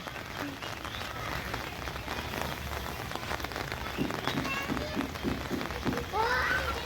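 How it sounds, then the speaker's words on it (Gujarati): Steady rain pattering on surfaces all around on a riverbank amid green surroundings, with faint voices of people mixed in the background. "વરસાદનો નજારો છે"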